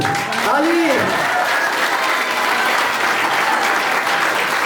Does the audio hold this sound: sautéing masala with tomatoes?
no